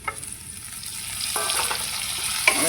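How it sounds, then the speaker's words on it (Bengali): Onions and tomatoes sizzling in a pan, a steady close frying hiss with occasional stirring scrapes and a small clink near the end. "দেখো পেঁয়াজটা ভাজা হয়ে গেছে, যে হালকা ব্রাউন ব্রাউন হয়েছে।"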